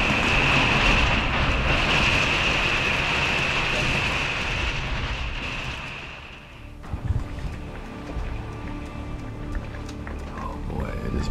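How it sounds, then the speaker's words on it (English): Heavy rain pounds a car during a nighttime storm on a road trip through the Florida Keys, a dense, loud roar that fades after several seconds to a softer patter with a few knocks. "it has been raining and storming all night"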